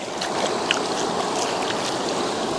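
Cold water from the Kauaeranga River in New Zealand splashes steadily as someone washes their face at the riverbank, with a continuous close rush of flowing water and no talk.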